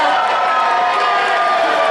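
A wrestling crowd in a packed gymnasium cheers and roars continuously, a loud, dense wash of many voices throughout.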